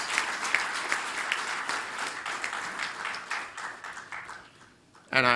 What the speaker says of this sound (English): So I think we need to give him a round of applause.